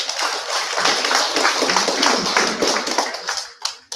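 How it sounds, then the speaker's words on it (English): Applause at an international postgraduate conference, honouring the organizing committee: a steady wash of many hands clapping at fairly close range, fading out near the end. "Give a big applause to the organizing committee"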